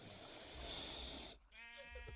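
Minecraft sheep with the Ice and Fire mod installed, giving short nasal in-game bleats near the end, after a stretch of steady background noise, heard faintly.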